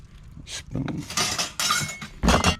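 A spoon clinks and rattles against silver-plated dishes in a few short, close bursts, with a voice speaking briefly in between.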